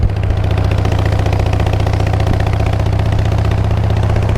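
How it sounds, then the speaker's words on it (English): A Harley-Davidson motorcycle without a windshield runs steadily while being ridden on a summer road, its loud, deep engine drone holding constant and close throughout with no voices. "Boy, this is a loud motorcycle."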